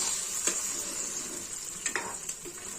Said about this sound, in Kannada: ಸ್ವಲ್ಪ ಜಾಸ್ತಿನೇ ಫ್ರೈ ಆಗುತ್ತೆ ಡ್ರೈ ಫ್ರೂಟ್ಸು.